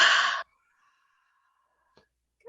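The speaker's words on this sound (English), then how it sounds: "on the exhale, we'll breathe out like we're fogging up a mirror" A single audible open-mouthed exhale, like fogging up a mirror, a breathy hiss lasting under half a second, then near silence with a faint click before another breath starts at the end.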